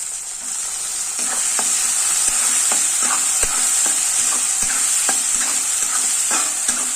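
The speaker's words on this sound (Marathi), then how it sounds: "त्यामध्ये आपण टोमॅटो ॲड करूया टोमॅटो पण खूप छान असं मस्त परतून घ्यायचं आहे आपल्याला" Tomatoes sautéing with onion and okra in a pan over lowered heat, a constant bright sizzle with repeated scraping and knocking of a spatula stirring, close and loud, without speech.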